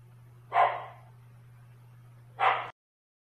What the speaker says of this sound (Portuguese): Desculpa o latido do cachorro, gente.